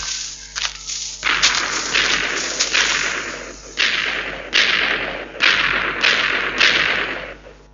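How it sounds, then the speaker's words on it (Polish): Minecraft TNT blocks detonating in a creative-mode game, a series of loud, broad bursts arriving one after another at roughly even intervals, each decaying quickly, with no talk. "Jeżeli postawimy TNT, ono od razu wybucha."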